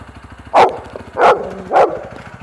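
A dog behind a wall barks three times in loud, separate woofs about half a second apart, over a low, rapid rhythmic mechanical patter.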